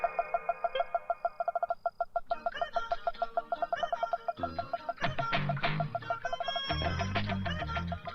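A mobile phone rings with an incoming call from a private number in a Malayalam film scene: a rapid repeating electronic trill gives way to a melodic ringtone tune that plays on clearly with no talk over it.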